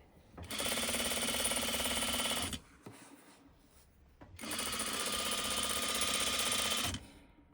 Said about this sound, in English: So top stitch